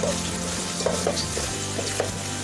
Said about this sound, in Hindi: और अब इसको अच्छी तरह से मिक्स कर लेते हैं मसाले को।